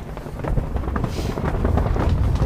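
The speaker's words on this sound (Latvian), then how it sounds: "O, kāda brīzīta vējiņš iepūš." Sea breeze blowing over an island shore, a steady close rush of wind buffeting the microphone for a couple of seconds, with no voices.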